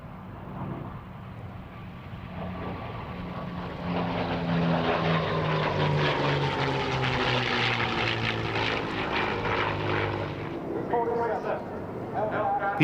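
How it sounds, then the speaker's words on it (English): Two B-25 Mitchell propeller bombers come in to land at an airshow, their piston engines droning and swelling louder as they pass close, then fading, with a commentator talking over the noise. "Here are the 2 Mitchells having taken part in that flypast coming into land."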